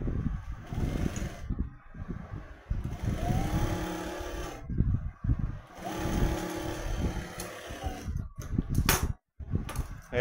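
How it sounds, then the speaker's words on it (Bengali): A domestic sewing machine stitches the sleeve hem of a churidar in several steady runs of whirring needle strokes, broken by short pauses, handling clicks and brief quiet gaps. "এই দিয়ে এক চাপ করে সেলাই করে দেবো"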